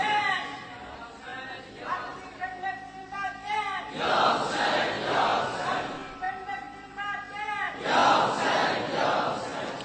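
A large crowd at a religious gathering honouring Imam Hussain roars in unison, loud surges of massed voices that rise and fall in waves, alternating with a single amplified voice leading between the bursts.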